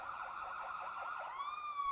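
A cartoon toy police car siren wails steadily in a children's truck show, a continuous rising and falling tone at moderate volume with no talking, shifting to a higher sustained pitch near the end.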